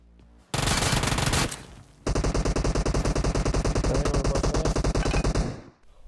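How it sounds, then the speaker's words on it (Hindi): Rapid automatic gunfire from a PUBG Mobile match, loud and close: a short burst, a brief pause, then a long sustained string of evenly spaced shots that stops abruptly near the end. "गोलियों की आवाज सुन के यार अब न रुका जा रहा मेरे से"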